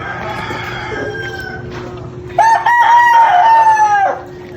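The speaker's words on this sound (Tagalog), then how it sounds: "Narinig pang talaok ng manok." A rooster crows once, loud and close, a drawn-out call rising and falling over a quiet, overcast early-morning outdoor background with faint distant birds.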